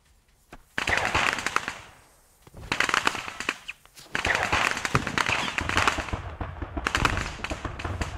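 Tank ammunition rack cooking off in the military shooter Squad on the Gorodok map, crackling bursts of popping explosions that come in several loud waves with short lulls between them.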